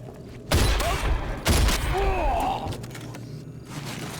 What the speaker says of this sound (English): So the shotgun does act like a real shotgun